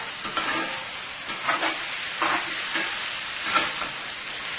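Chicken frying in a pan on high heat gives a dense, close sizzle that crackles and spits steadily throughout, with a few louder pops and no talking.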